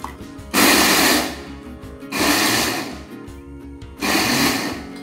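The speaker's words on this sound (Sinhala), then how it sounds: "දැන් මේ ටික හොඳට බ්ලෙන්ඩ් කරගමු." A kitchen blender whirring through curry leaves with salt, garlic and pepper in three loud pulsed bursts of about a second or more each, separated by short pauses.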